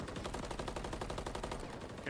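Rapid gunfire from a Call of Duty League match between OpTic Texas and Seattle Surge, a dense, steady stream of shots running the full length at close range with a faint voice underneath.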